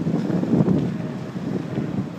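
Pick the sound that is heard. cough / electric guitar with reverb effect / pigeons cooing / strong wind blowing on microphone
strong wind blowing on microphone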